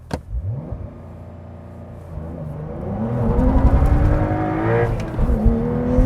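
A manual 2025 Porsche 911 Carrera T launches with traction control off: a sharp rev, then the engine's roar builds steadily through the gear in a rising whine, loud and close, with a brief shift near the end.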